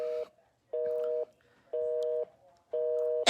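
A telephone busy signal sounds after a scam caller hangs up: four short, identical tones repeating at a steady one-second rhythm, clear and alone.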